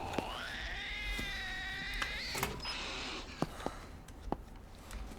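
A cat in the survival video game DayZ lets out a long rising and wavering meow, with scattered sharp clicks and knocks over a low steady background hum.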